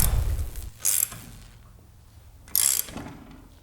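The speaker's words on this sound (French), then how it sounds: "Avec la clé fournie par le fabricant, je peux serrer. Clé à cliquet quand même." Ratchet wrench supplied by the manufacturer tightening a pipe bevelling tool on a workbench: two short, bright metallic ratcheting bursts about two seconds apart, close and fairly loud, with quiet room tone between.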